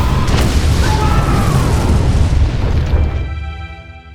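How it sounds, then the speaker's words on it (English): A massive gunpowder explosion roars loud and close as one sustained rumbling blast, dense and booming, then slowly fades into a quieter tail. "a soldier suddenly ignited the nearby gunpowder"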